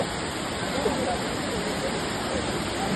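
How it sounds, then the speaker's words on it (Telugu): Vibhuti waterfalls near Gokarna roar as a dense, steady rush of falling water, loud and unbroken, with faint voices in the background. "ఇదే విభూది వాటర్ ఫాల్స్"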